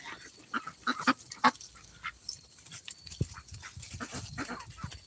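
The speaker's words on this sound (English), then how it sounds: "He's a Akana duck." An Ancona duck quacks and honks in a farmyard at dinner time, several short scattered calls at moderate distance amid quiet rustling and other faint bird sounds.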